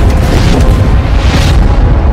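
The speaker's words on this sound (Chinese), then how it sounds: "轰炸机对塔利班武装阵地进行了轰炸，顿时火花四溅，升起了一团蘑菇云" Loud bomb blast from a bomber airstrike on a Taliban position in a war film, a deep sustained boom rumbling throughout with heavy low-end roar and no voices.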